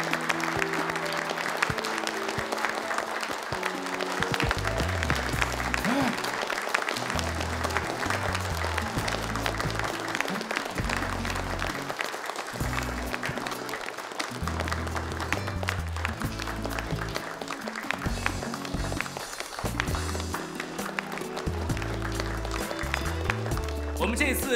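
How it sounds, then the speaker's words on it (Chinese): An audience applauds steadily at a supermodel contest, with continuous clapping under music and a voice speaking throughout. "让我们用最热烈的掌声为他们祝福"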